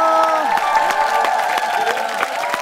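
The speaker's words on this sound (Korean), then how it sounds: "큰 박수로 환영해 주시기 바라겠습니다." Applause and cheering from a TV studio audience rises under loud music playing on the set of a Korean talent show, steady for the whole stretch.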